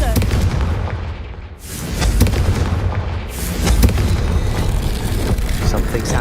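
Confringo fire blast spell explosions in the Hogwarts Legacy video game, loud booming blasts, one near the start and another around the middle, each with a rumbling tail, set against steady game ambience.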